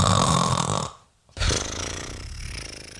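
A voice imitates snoring with a loud, rasping inhale, then a short pause, and a second long, rattling snort that fades slowly, close to the microphone.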